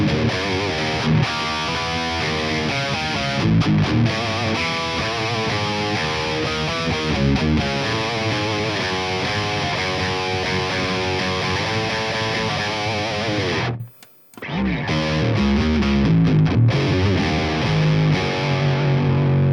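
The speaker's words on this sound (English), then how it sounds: "Let's check out the octaver." Electric guitar played through an octaver effect on the Bogren Digital S_Zero 93 Silenoz signature amp plugin: thick, heavily distorted riffing that cuts out abruptly for a brief silence near the end, then resumes loud.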